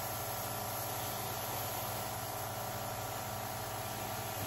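An aerosol can of spray paint releases a light, even mist onto a custom Air Jordan Travis Scott 1 High sneaker in a continuous steady hiss with no breaks, faint and unvarying throughout.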